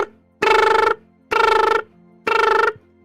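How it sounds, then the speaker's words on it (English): Transceiver ringing in a Pokemon tabletop game: three loud, evenly spaced electronic ring bursts, each about half a second long with short gaps between, clear and close with no talk. "X transceiver is ringing"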